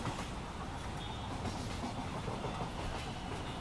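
A Virar–Andheri local train on Mumbai's suburban railway rumbles past as a steady, dense roar with faint clickety-clack of the wheels, continuous and fairly distant throughout.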